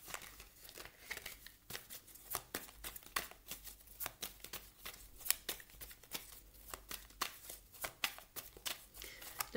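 Tarot cards are shuffled and handled in a rapid, steady run of crisp riffling slaps and papery flicks, close and fairly quiet, with no voice over them.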